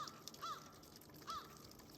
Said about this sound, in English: The crows are crowing.